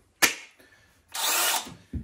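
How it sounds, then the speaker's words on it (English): A cordless drill gives a short trigger blip, then a burst of about half a second of whirring close by, with brief clicks at either end. "So we needed the battery for the drill."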